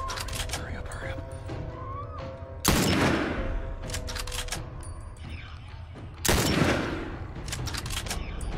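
Gunfire in The Last of Us breaks out in two heavy bursts, each a loud broadband blast that decays slowly, over a constant background of game ambience and low hum.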